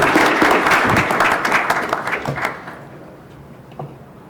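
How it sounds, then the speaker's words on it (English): An audience at a central bank annual conference claps loudly, sustained applause that fades away by the middle and leaves quiet room noise. "I'd like to ask everyone for one last round of applause for them"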